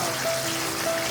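Rain falls steadily at a village home in Konkan, a soft, even patter that holds for the whole moment with no voices.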